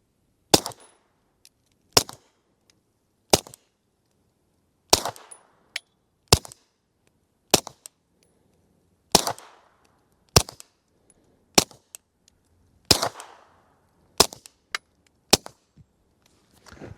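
A suppressed SAR9 SOCOM pistol fires American Eagle 147gr ammunition, giving about a dozen sharp, evenly spaced cracks, each followed by a short fading tail, with quiet gaps between shots.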